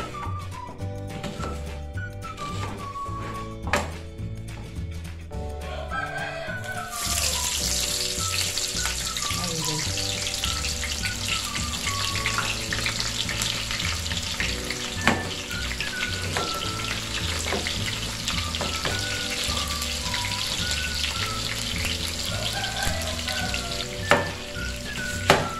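Three onions frying in a pot for Chiapas-style mole give a steady, loud sizzle that jumps in sharply after a quieter opening with background music, then holds continuously with occasional small crackles.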